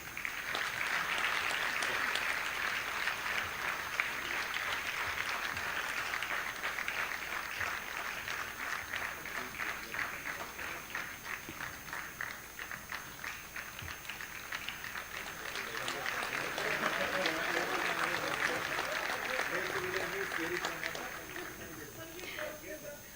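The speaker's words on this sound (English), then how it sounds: "Let's have a big round of applause." Sustained audience applause at an Income Tax Day awards ceremony, a dense crowd clapping that fades slightly midway and swells again before tapering off near the end.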